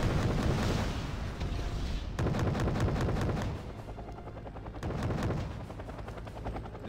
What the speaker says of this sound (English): the AGS-17s are doing their best with their hailstorm of grenade fire